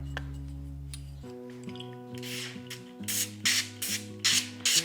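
Cooking oil spray hisses onto a baking tray in several short bursts, growing louder and more regular toward the end, with a faint musical background underneath.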